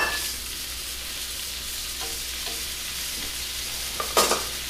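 Brussels sprouts sizzle steadily in a big pan, with a few soft scraping stirs and a louder clatter of stirring near the end, up close.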